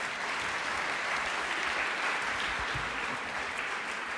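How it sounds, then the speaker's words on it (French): An entrepreneurship gala crowd in Montreal applauds the event organizers, a continuous, even roar of clapping from a large hall audience that holds steady throughout. "applaudissez-les,"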